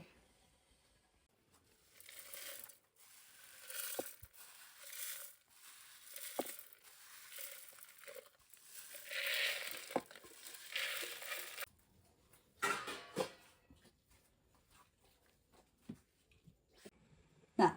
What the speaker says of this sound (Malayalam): ഇതെല്ലാം പാടൊന്ന് പൊടിച്ചെടുക്കട്ടെ